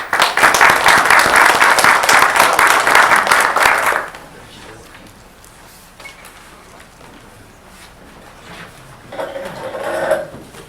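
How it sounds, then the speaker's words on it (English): At a school board event, an audience gives a loud, dense round of applause for a student council group. The clapping cuts off sharply after about four seconds, leaving quiet room noise, then a brief louder burst of sound near the end. "Please give this group a round of applause."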